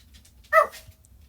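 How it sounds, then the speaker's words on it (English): A single short dog bark sounds from the background in a quiet indoor room, one sharp faint yelp standing alone against a low hum. "You may hear my dog barking in the background."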